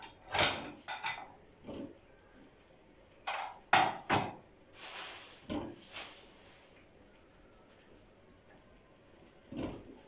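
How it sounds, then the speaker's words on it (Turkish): Dishes and cutlery are handled in a home kitchen, giving scattered clinks and clatters of plates and utensils. The bursts are close but fairly quiet, with short pauses between them. "Şu bulaşıkları şuradan bir alayım."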